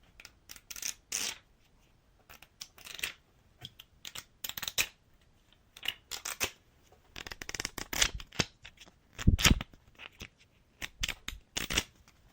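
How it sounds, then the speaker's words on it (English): Sheets of paper are flipped and riffled close to a binaural microphone, crisp papery flutters in quick irregular bursts with brief pauses, intimate and clear. "how about some flips of paper?"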